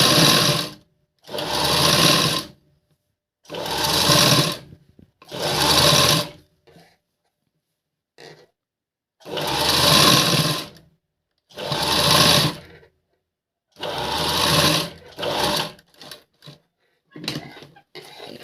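Sewing machine stitching a blouse, rapid mechanical chattering in repeated bursts of a second or two separated by short pauses, with a few brief stop-start runs near the end, close and clear.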